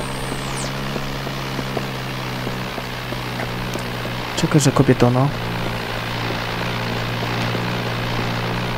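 Steady droning airplane engine in James Bond 007: NightFire, a constant hum filling the whole stretch while someone speaks briefly over it midway.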